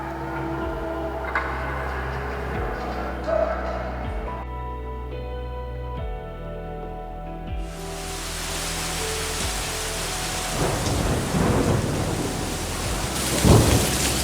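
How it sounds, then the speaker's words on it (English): Heavy thunderstorm rain pouring down in a dense, steady roar, with deep thunder rumbling and building loudly partway through; no talk. "it's not used to rain like this. Doesn't rain like this in California."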